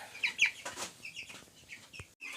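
Broiler chickens on a small home farm cluck and chirp softly in short scattered calls, close by and fairly quiet, with no talk.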